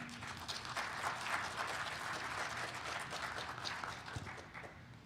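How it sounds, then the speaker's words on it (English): Audience applause at a BSidesLV 2025 security conference talk, a steady, dense wash of clapping from a seated crowd lasting the whole span at moderate level, with no clear speech over it. "let's give our girl, Anya, a round of applause."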